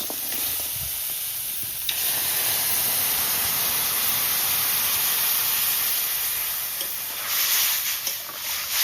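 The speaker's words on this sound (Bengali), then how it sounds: "এবার কেওড়ার ঝোল দিয়ে দিচ্ছি।" Keora fruit broth is poured into a hot pan of crab, raising a loud, steady, close hiss and sizzle that swells again near the end.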